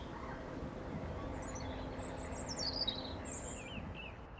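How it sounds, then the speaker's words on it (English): Robins sing in Kensington Gardens, a few thin, high warbling phrases at middle distance over a low, steady hum of park and city background. "Robins are singing everywhere."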